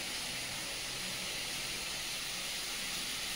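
Ginger garlic paste sizzles with fried onions in a pan, a steady, loud, hissing crackle that runs unbroken for a few seconds with no talking.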